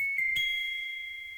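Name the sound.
kalimba pitched way up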